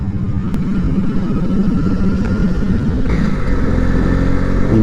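A Lamborghini Diablo sports car passes nearby with a loud, steady engine roar that swells slightly toward the end, with no talk over it.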